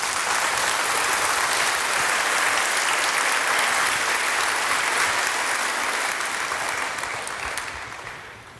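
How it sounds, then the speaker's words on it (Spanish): A church congregation claps loudly and steadily for Jesus Christ, a dense wash of hands that holds for about seven seconds, then thins and fades away. "Dale un aplauso a Jesucristo."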